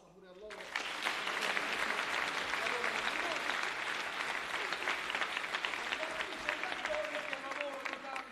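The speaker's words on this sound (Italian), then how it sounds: "un applauso pure a loro." A theatre audience at an amateur Italian stage comedy bursts into applause after a brief quiet start, then keeps up dense, loud, sustained clapping to the end.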